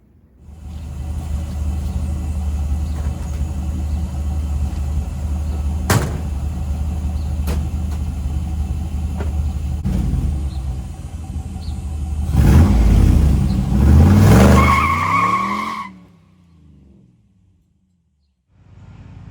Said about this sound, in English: I guess we could throw this together and see if it does a burnout.